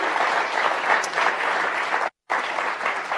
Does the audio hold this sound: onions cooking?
no